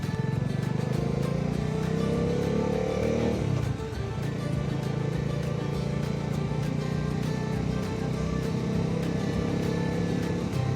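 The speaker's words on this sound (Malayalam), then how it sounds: "എക്സോസ്റ്റ് നോട്ട് നിങ്ങൾക്ക് കേൾക്കുന്നുണ്ടെന്ന് ഞാൻ വിശ്വസിക്കുന്നു" A Domina motorcycle's exhaust note heard while riding on a sunrise highway trip from Bengaluru toward Penukonda, a steady, loud engine drone that continues without a break and has no speech over it.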